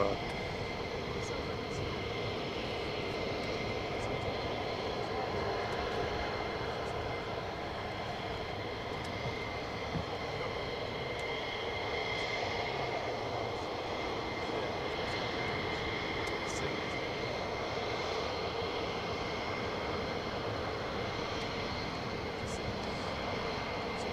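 Military jet taking off on afterburner at RAF Lakenheath, a distant, sustained roar holding steady throughout at moderate level, with a voice faintly audible over it.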